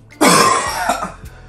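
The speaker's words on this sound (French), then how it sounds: "La toux là." A single harsh, close cough bursts out and trails off into a rough throat-clearing rasp, with no talking.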